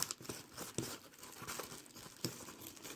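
A Pokemon card package is cut and torn open up close, with a run of crinkly plastic rustles and sharp tearing bursts, quiet and without talk.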